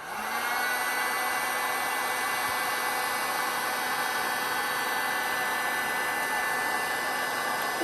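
A heat tool blows hot air onto Vaseline on wood to lift resin drips, giving a loud, steady, hissing whine like a hair dryer that runs without a break from start to finish.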